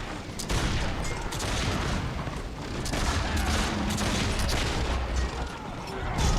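Dense, continuous battle noise from Warhammer Online, with repeated booming cannon-like blasts and crackling gunfire layered throughout, loud and chaotic with no clear gaps.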